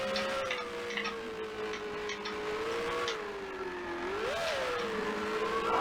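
A race car engine in Grand Prix Legends, 1965 season at Sandown, accelerates out of the Goodyear corner with a loud, continuous buzzing drone. Its pitch holds steady, dips, then climbs briefly with no talking.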